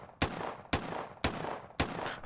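Four loud gunshots fired one after another at an even pace in the video game Ylands, celebrating a 50th episode, each sharp crack trailing into a short decay.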